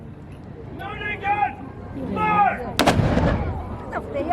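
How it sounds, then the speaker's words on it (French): A traditional cannon fired at noon in Malta, one sharp, loud blast booming out amid a chattering crowd, with people speaking before and after. "Un vrai tir de canon."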